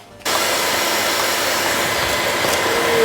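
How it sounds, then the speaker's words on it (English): A shop vac runs steadily inside a Japanese-market 300ZX, sucking leaves out of the interior, its loud, even roar starting abruptly and holding constant throughout. "we get the shop vac out, we'll just vacuum all that out"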